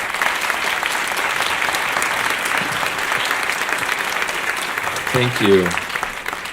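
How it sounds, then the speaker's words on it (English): Audience applause for college and university representatives at an education and workforce forum, a sustained crowd clapping that fills the room, with a brief spoken thanks near the end. "And let's give them a round of applause as well."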